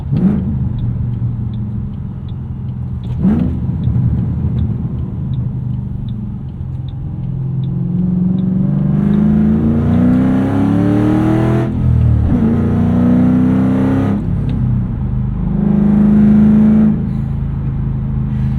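A loud 2007 Ford Mustang Shelby GT with a five-speed manual rumbles and revs up through the gears, with rising pitch, brief drops at shifts, and a deep throaty exhaust tone throughout.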